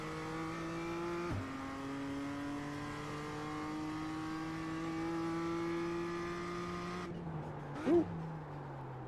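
A race car engine holds a long rising note through a gear on a track lap, then cuts abruptly with a quick downshift blip near the end, heard steadily from on board.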